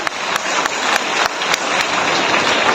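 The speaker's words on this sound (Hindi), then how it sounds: "सारे बच्चे ताली बजाएंगे" A crowd of schoolchildren at a U P Skill Quest 2023 event clapping together in a hall, with sustained dense applause and sharp periodic microphone knocks or louder claps cutting through.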